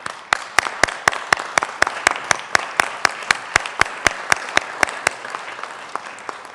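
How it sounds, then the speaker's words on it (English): Applause from a small group in the Colorado Senate chamber: sharp, evenly spaced claps in a steady rhythm for several seconds, fading toward the end, with no talking. "could we give a round of applause welcoming our guests?"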